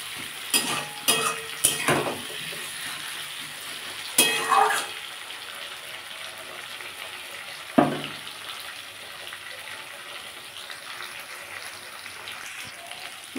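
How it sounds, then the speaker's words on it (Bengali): Chopped capsicum fries in a pan for a potato and parse fish curry, with a steady low sizzle and a few sharp clatters of stirring near the start and one knock around eight seconds. "আমি এর মধ্যে এবার ক্যাপসিকামগুলো একটু দিয়ে দেবো। এটা দিয়েও খানিকটা ভেজে নেবো খানিকক্ষণ।"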